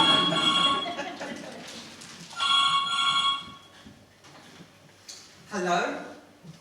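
A telephone bell rings in a comic stage scene, two clear bursts of ringing with a pause between them, followed by a voice starting to speak.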